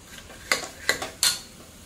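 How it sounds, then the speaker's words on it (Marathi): Spice paste sautéed in a pan for a mixed-vegetable dish, with three sharp spatula clinks against the metal over a low background hiss, close and with no talk. "आता हे मी सगळं परतून घेते।"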